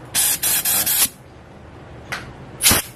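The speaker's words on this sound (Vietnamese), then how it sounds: "Ta lấy súng này chúng ta xịt nó đi nhá." A spray gun gives several short bursts of air to blow melted solder out of the tubing of a homemade vacuum desoldering tool, with a pause followed by two more brief blasts; no talking.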